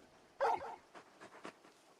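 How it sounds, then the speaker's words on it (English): Torgal, the big dog companion in Final Fantasy XVI, gives a sharp yip followed by soft whimpers and short breathy sounds, fairly faint and alone. "You're just a big puppy, aren't you? A very big puppy."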